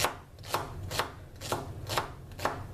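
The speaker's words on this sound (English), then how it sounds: "I just give these a quick chop" A knife chops through celery stalks on a cutting board in a steady rhythm of six crisp, close strokes about half a second apart, with no voices.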